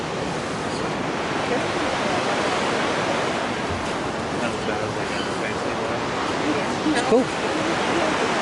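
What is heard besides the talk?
waterfall in Ketchikan, Alaska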